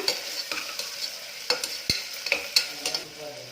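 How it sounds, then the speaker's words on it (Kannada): Onions frying in oil in a pressure cooker for a village-style upma, with soft sizzling under repeated scraping and stirring clicks of a spoon against the metal, close and fairly quiet. "ಈರುಳ್ಳಿ ಹಸಿ ವಾಸನೆ ಹೋಗೋವರೆಗೂ ಎಣ್ಣೆಯಲ್ಲಿ ಫ್ರೈ ಮಾಡ್ಕೊಳ್ಳೋಣ"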